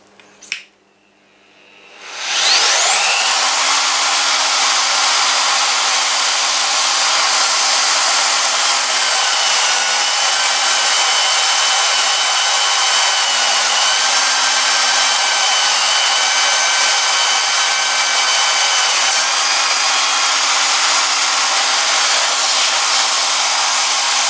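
A Vevor ZT-45H magnetic drill cuts through metal after a brief click, its motor spinning up into a loud, steady high whine that holds unbroken for about twenty seconds, with no talking.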